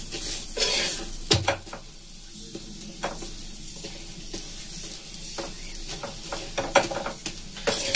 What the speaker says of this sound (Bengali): সেই জন্য আমি তেল দিয়ে ভাজছি